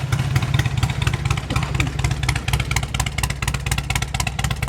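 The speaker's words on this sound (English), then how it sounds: "You got the hard-hitting Rine Hart exhaust. You got, again, true duals." Black and red two-tone Harley-Davidson Road King motorcycle with Rinehart true dual exhausts, idling close by with a steady, deep, pulsing rumble and loud mechanical clatter, no talking.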